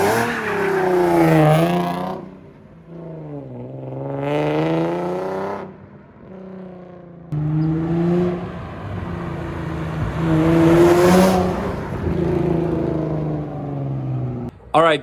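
Nissan 370Z being rebuilt after a wreck, engine revving repeatedly while driving, rising and falling harmonic sweeps that are loud and close, with some speech mixed in.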